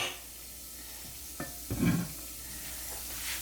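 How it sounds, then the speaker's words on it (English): Rapini tossed into a big pan of hot oil and garlic gives a short, soft burst of sizzling and stirring midway through. It sits over a faint steady kitchen hiss, with no talking. "Now I can transfer the oil and garlic into the big pan so that I can then toss the rapini"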